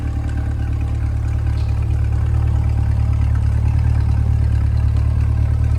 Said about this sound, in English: listen to the exhaust that idle here